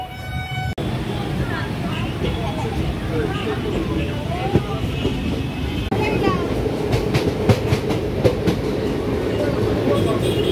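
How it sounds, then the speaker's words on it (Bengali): A Kolkata to Digha special train halted at Dakshineswar, rumbling and clattering with a steady low roar, rhythmic clicks of the wheels growing more pronounced toward the end, with faint voices. "ট্রেন কিন্তু এখন এসছে দক্ষিণেশ্বরে কিন্তু এই ট্রেন দাঁড়ানোর কথা না"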